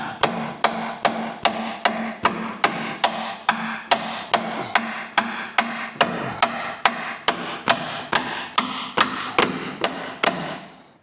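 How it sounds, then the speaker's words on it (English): Heavy blows from a big hammer strike a bent metal part of a Hyundai i20 in a steady rhythm, about twenty sharp ringing impacts, close and loud, with no talking. "A big hammer."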